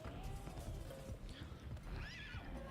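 Horse neigh from the Bladed Fury video game, a loud whinny with rising and falling pitch toward the end, set against dense game music and combat noise, with a voice briefly audible.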